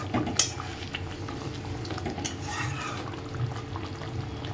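Fried katla fish goes into a sizzling Bengali doi curry, giving a steady close crackle and bubbling with occasional stirring clinks of a utensil against the pan.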